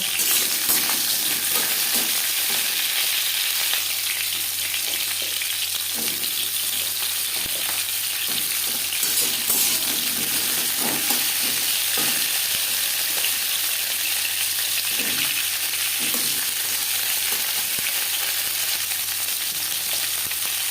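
Pointed gourd (potol) pieces fry in two spoons of hot refined oil, giving a steady, dense sizzle and crackle close by for the whole stretch, with occasional scrapes of stirring.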